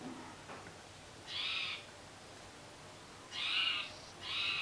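Birds calling outdoors, three bright, clear, separate call bursts heard at a moderate distance against a quiet, steady room background.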